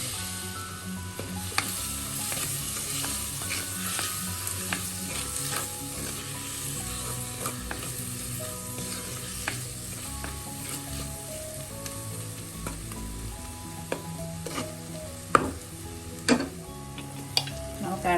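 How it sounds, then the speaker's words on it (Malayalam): Tomatoes are stirred and sautéed in a sizzling pan for a Kerala coconut milk kingfish chilli curry, with a steady frying hiss, occasional spatula clicks and scrapes, and no voices. "നമുക്ക് തക്കാളി ചേർത്തൊന്ന് ഇളക്കാം"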